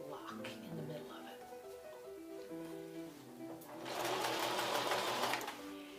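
A sewing machine stitching a long Romney wool lock into art yarn, its needle whirring in bursts that build to a louder continuous run, with a voice talking over it.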